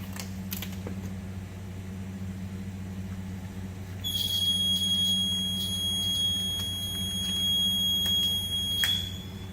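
A steady high electronic timer beeping starts partway through and rings continuously for several seconds over a low hum, with a few scattered clicks, during water transfer printing of carbon film.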